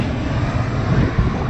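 A fixed-wing plane taking off from Reykjavik's domestic airport near town, its engine a steady, broad roar without pause.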